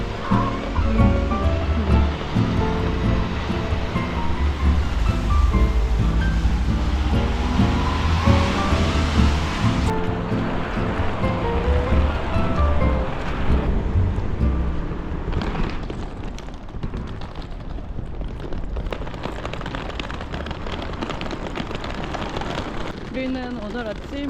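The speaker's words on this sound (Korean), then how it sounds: "프라하를 떠나는 날 아침 이렇게 비가 오다니" Morning rain in Prague hisses as a dense, continuous wash of noise, loud at first and then easing after about ten seconds into a softer patter, with a voice talking over it.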